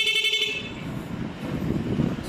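A brief toot from an aftermarket rapid car horn sounds at the start, then fades into low rumbling traffic and engine noise nearby.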